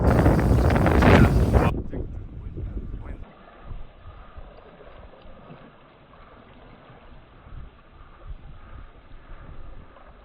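Loud wind buffets an outdoor microphone in a heavy roaring gust at first, then settles into a softer, steady rush with a voice speaking under it.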